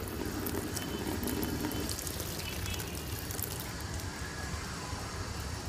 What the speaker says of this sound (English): To show you the real performance of the pump, I will throw this pump into the water